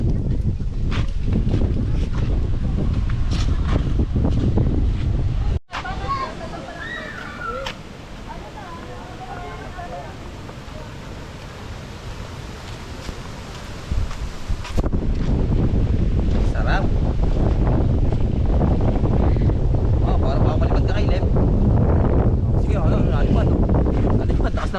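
Strong wind at a lake in the Philippines buffets the microphone in a loud, rumbling roar, easing briefly midway before gusting hard again.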